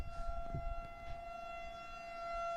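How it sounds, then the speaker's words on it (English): A tornado siren wails outdoors during a storm, a steady droning tone with a higher harmonic held throughout and slowly swelling, heard from a distance through a window with faint room noise at the start. "Yep, that's a tornado siren."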